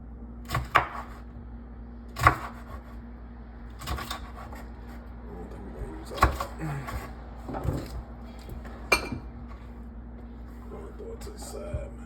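Knife slicing a red bell pepper on a board: sparse, separate cuts spaced a second or two apart, fairly quiet and close, over a steady low hum with faint speech.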